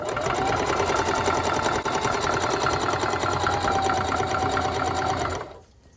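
A sewing machine stitching a basket runs in one fast, steady mechanical whir with a rapid needle rhythm, close and loud, then stops and fades out near the end.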